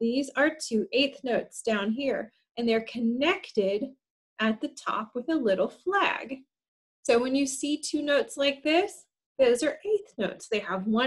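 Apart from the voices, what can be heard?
No everyday noises stand out.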